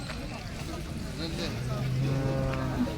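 A Jersey cow at the Baramati cattle market gives a low, drawn-out moo near the end, amid crowd chatter and market background noise, with people talking throughout.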